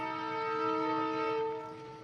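A train horn sounds at a jungle stop as the train pulls away, a sustained steady blast with rich layered tones that holds loud for about two seconds, then eases slightly at the end.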